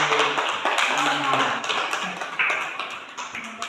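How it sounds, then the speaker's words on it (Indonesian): A classroom audience claps in dense, lively applause that continues throughout, with many hands overlapping and a voice heard under it. "Semua berikan aplaus yang meriah untuk"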